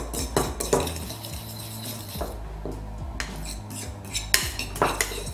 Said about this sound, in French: On remue super bien pour avoir une bonne